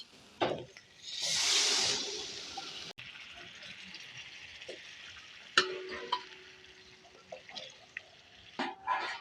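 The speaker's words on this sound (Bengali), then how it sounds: "এখন এর মধ্যে দিয়ে দেবো জল।" Water pours into a pan of spiced potatoes in a Bengali kitchen, a loud rushing splash lasting about two seconds, followed by quiet sizzling, clinks and a few utensil knocks.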